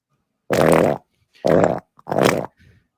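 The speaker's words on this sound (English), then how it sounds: "Just recording my farts on the phone and sending them." Three short fart bursts played back through a phone speaker, each about half a second long and spaced apart, loud and close, with a tiny blip between the last two and no talking.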